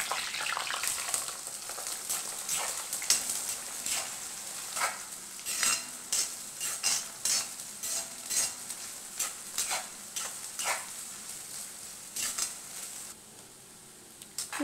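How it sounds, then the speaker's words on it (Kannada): Onions fry and sizzle in a pan for hotel-style veg biryani, with cloves and fennel seeds, while a spoon stirs in steady scraping strokes and clinks against the pan, continuous and close with no talk. "ಈಗ ಆನಿಯನ್ ಫ್ರೈ ಆಗಿದೆ."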